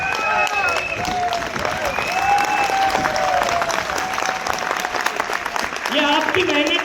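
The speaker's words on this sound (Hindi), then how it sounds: "इन सबके लिए एक बार जाते जाते मैं चाहूंगा कि खड़े होकर तालियां हो सकती है।" A crowd at a motivational gathering in Delhi gives a standing ovation, with sustained, dense clapping throughout and voices calling out over it.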